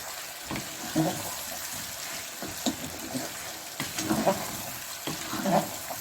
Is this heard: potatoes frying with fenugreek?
yes